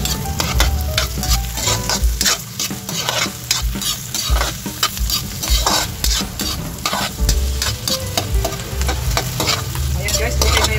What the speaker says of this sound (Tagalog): Maglalagay na tayo ng ating mantika. Ilagay na natin guys yung ating sibuyas.